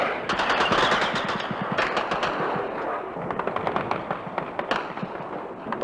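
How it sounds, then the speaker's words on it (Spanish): Archival wartime recording from the Falklands War, with intense machine-gun and anti-aircraft fire: dense, rapid bursts of loud shots overlapping continuously, with sharp cracks standing out near the end. "Ahora el tiroteo es mucho más intenso."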